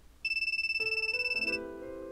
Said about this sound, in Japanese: なるみのスマホに着信だ。